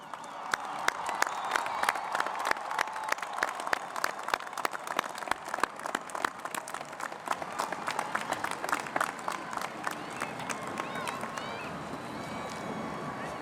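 Graduates at a University of Washington commencement applaud their families and friends, a dense, sustained wave of clapping from a large crowd that swells, holds, then thins toward the end.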